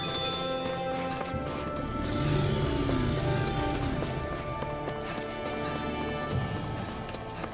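Horses in the video game Tales of Arise: steady clip-clop hooves over a busy bed of tonal game music and ambience, fairly even in level throughout.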